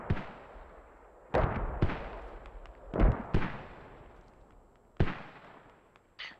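Mortar fire in the Squad video game booms in several heavy, separate blasts spaced a second or two apart, each with a long rumbling decay, loud and close with no talk.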